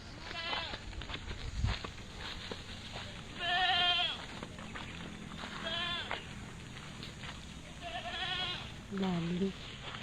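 A herd of goats near a river on a hot day bleats in separate bursts every couple of seconds, some calls wavering and one lower near the end, over a steady outdoor background.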